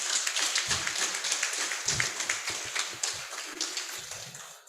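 Audience at a cooperative's annual general meeting applauds: dense, steady clapping from many hands that holds for the whole span, fairly close and even in level.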